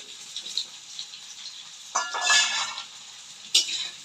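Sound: onion and potato frying together in a pan

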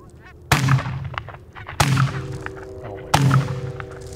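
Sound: geese honking as they are flushed from decoys

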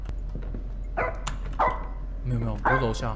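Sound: dog barking in a video game

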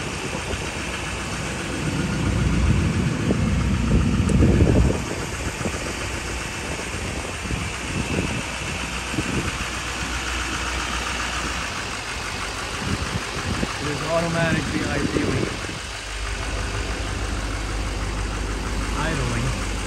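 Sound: Chevrolet Silverado 2500HD engine idling

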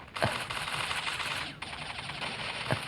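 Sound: gunfire in the video game Bullet Angel: Xshot Mission

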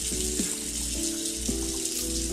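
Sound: water running from tap in Roblox video game

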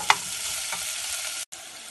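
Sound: ginger and garlic frying in a pan

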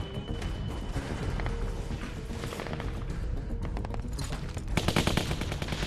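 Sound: machine gun fire in The Walking Dead video game

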